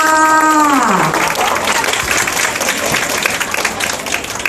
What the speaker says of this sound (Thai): นี่ขอเสียงปรบมืออีกครั้งค่ะ